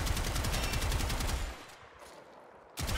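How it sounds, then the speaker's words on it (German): Rapid automatic fire from the Gotva Prime rifle in the Warframe video game, a dense continuous burst for about one and a half seconds that cuts off, followed by quiet, then another burst starting near the end. "Wenn wir nur auf den Körper schießen."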